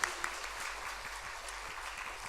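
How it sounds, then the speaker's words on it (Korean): Welcoming applause from a church congregation during a Sunday worship service, an even, continuous patter of many hands at moderate distance, fairly soft. "우리 다시 한번 환영의 박수 드리겠습니다"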